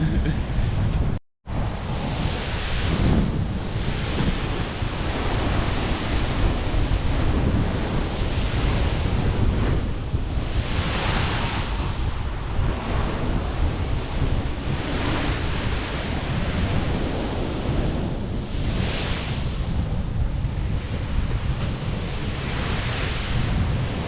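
Surf and wind roar together through a tropical storm on the Jamaican coast, a steady loud wash with heavy gusts buffeting the microphone and waves swelling every few seconds, broken once by a brief dropout near the start.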